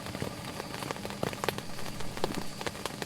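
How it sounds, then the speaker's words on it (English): Rain in the game Phasmophobia patters quietly on a surface, a soft, irregular spatter of drops with occasional sharper taps, faint and continuous. "might be muffled because of the rain"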